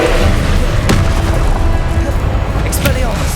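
A Confringo blast spell goes off in Hogwarts Legacy, a sharp booming burst near the one-second mark over a dense, continuous wash of game combat noise, with voices in the background.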